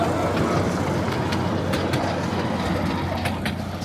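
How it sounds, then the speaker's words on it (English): A small park train in a wildlife park rumbles past steadily at close range, with a continuous low roll of wheels and faint clicks and squeaks, no talking. "so that's the train"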